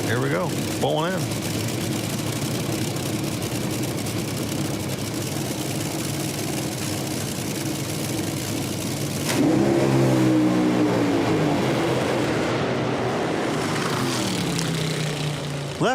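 Top fuel nitro drag racing car at an IHRA Outlaw Nitro Series event in Columbus, Ohio: a loud, roaring engine run with a surge in revs midway, then a falling pitch, under constant announcer commentary.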